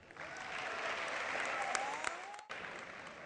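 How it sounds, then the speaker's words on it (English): Audience applause at a Saturday collaboration show, a steady wash of many hands clapping at moderate distance, holding evenly for about two seconds, briefly dropping out, then resuming. "And another round of applause, ladies and gentlemen, for Eric Arubai,"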